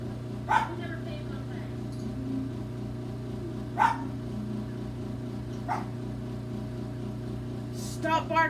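A dog barks in a few short, separated bursts, loud and close, while someone talks over a steady background hum during a makeup session at home.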